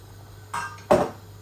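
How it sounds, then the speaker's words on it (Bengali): A glass of water splashes into a cooking pot of pangas fish with bean seeds, two short bursts close by, the second louder, over a steady low kitchen hum. "এক গ্লাস পানি দিয়া"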